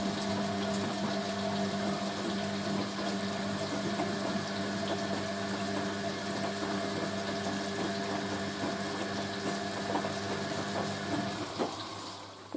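A Hoover A3060 Electronic 1100 washing machine on its rinse cycle, pumping water with a steady tonal hum and a watery churn for about eleven seconds, then a brief clunk as it stops near the end.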